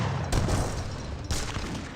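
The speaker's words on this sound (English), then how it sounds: "that's just a Bombard attack" Bombard cannon fire in the video game Age of Empires 3 cracks out in two sharp, loud bursts with rumbling battle noise between them.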